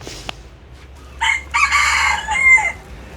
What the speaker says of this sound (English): It's a big chicken.